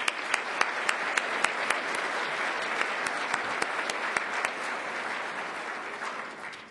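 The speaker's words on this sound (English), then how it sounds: "Let's have another round of applause for our honorees." Steady applause from a crowd at an awards event for honorees, dense clapping with a few sharp louder claps standing out, continuing evenly before easing slightly at the end.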